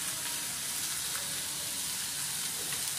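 Pulao ingredients frying in a pan give off a steady, dense sizzle that runs unbroken for about three seconds at close range, with no one speaking.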